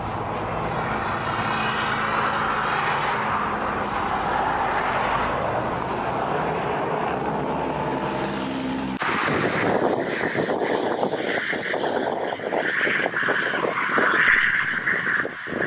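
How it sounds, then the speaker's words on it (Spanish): Motor cars passing along a roadside, a loud rushing swell of tire and engine noise that fades, then a rougher, windier stretch of traffic and gusts, with no talk. "por el ruido, por el viento que generan los autos con motor"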